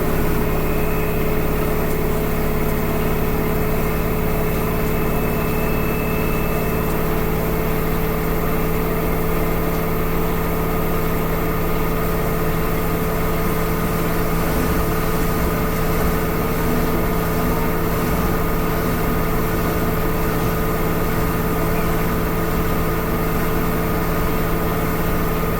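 An LG WM3600HWA front-loading washing machine speeds up in its extra-high spin cycle toward 1300 RPM, a loud, steady whirring hum with sustained tones, heard close and alone throughout.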